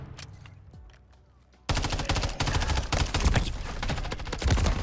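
Rapid automatic gunfire in Modern Warfare 3, starting after a quiet stretch with a few faint clicks and then erupting into loud, dense bursts of shots that continue to the end.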